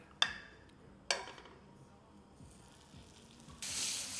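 Room-temperature butter, about a tablespoon, hits a pan on high heat, giving two sharp sizzling bursts that fade, then a steady loud hiss rising near the end.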